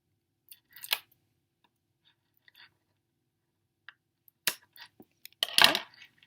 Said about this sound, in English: Now we trim these extra pieces here.